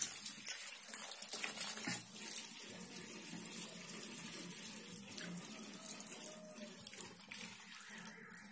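Water is poured onto soil in a potted coconut plant set over a coconut shell, giving a steady trickling, splashing flow with small spattering bursts heard close by.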